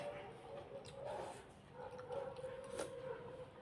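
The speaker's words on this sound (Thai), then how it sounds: "หมาหอนพี่น้อง" A dog howls and whimpers a few times at moderate distance in a Thai kitchen setting, the cries rising over low background noise while a person talks nearby.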